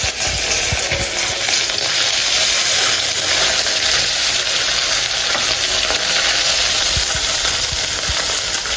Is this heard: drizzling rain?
no